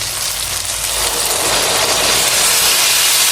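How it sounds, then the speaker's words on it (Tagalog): Steady rushing, hissing bubble noise of water at a rolling boil in a pot for pinakbet, loud and continuous throughout with no voices. "Ito po, kumukulo na."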